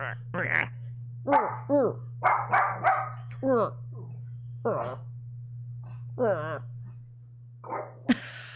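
A dog gives a run of close barks, yips and whimpers at home. A steady low hum runs underneath, and a person speaks briefly near the end.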